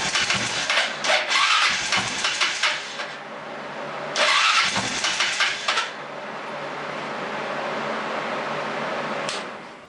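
A small engine cranks in two rapid bursts of pulsing turnover, sputtering without catching, then falls to a steady hum.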